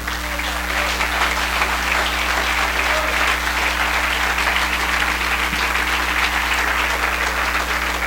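A church congregation applauds during a Spanish-language sermon on the Holy Spirit, giving a dense, steady wash of clapping that stays loud and unbroken throughout, with a constant low hum beneath it.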